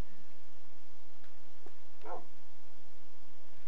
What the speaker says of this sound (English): By the way, I have a little puppy.